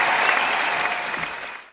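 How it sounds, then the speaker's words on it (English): Brief burst of clapping from a small group gathered in a newly refurbished student house kitchen, fairly close and lively, then cutting off abruptly at the end. "so round of applause there, Mr. Joiner"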